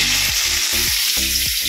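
Vegetables fry in oil in a karahi with a dense continuous sizzle, broken by a few short scraping stirs, loud and close with no voices.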